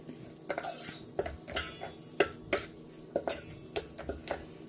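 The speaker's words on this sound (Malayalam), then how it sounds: "നമ്മളിവിടെ ഓട്സും കീൻവായും കൂടെ ഇളക്കിയെടുക്കാൻ പോവാണ്" Oats and quinoa stirred in a pot of boiling water, a spoon knocking and scraping against the pot in a steady rhythm of close, distinct clatters, fairly quiet, with no talk.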